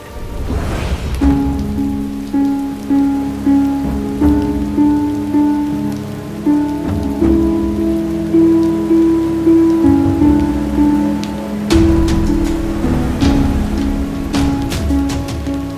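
Heavy rain pours steadily across the whole stretch, a dense continuous patter under a sustained musical drone, with a few sharper drop impacts near the end.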